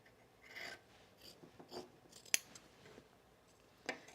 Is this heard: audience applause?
no